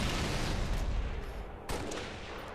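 Rapid bursts of gunfire in a Halo-style first-person shooter, a dense, loud rattle of shots with a brief gap and sharp resumption partway through, no voices over it.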